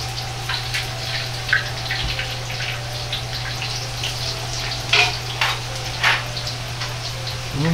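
Taro pieces deep-frying in hot oil for a prawn and taro oyster-sauce stir-fry, giving a steady close sizzle with scattered louder pops and crackles throughout.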